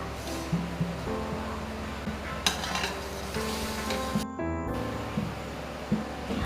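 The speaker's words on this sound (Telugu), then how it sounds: "1 కప్పు పాలు వేసుకొని బాగా కలుపుతూ ఉండాలి" Pumpkin kheer with sago and milk being stirred in a pot, with a steady low simmering hiss and occasional scrapes and light clinks of the spoon against the pot.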